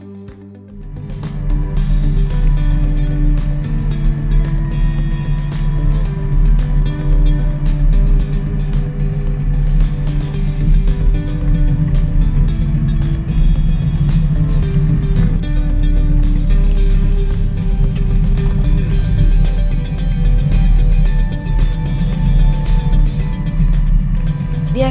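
Embraer Legacy 450 business jet landing and braking hard on a short runway: a loud, sustained low rumble and roar with steady tonal hum and rattling, continuous throughout with no voices.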